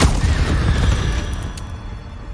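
Incendio fire spell cast in Hogwarts Legacy, a dense roaring whoosh of flame with rumbling low bursts, loud and continuous throughout, slowly thinning toward the end.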